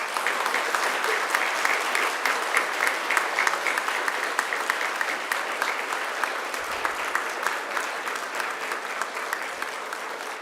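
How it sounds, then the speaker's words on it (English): A large graduation ceremony audience at Macquarie University claps steadily, a dense, sustained wash of many hands heard from within the hall, holding at an even level for about ten seconds. "give them a mighty round of applause"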